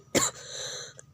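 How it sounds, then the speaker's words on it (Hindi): One sharp cough is followed straight away by a short rasping clearing of the throat, heard close up in a quiet room with no talking. "खांसी हो गई है मुझे"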